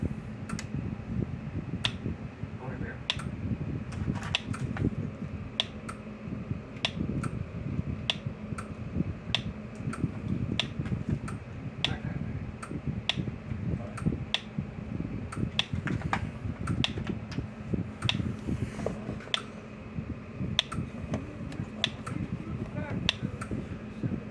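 A Speedrite 980 SM9800 electric fence energizer, plugged into 110-120 volt mains via a power strip, ticks with sharp regular pulses about once a second, close and steady over a low background hum.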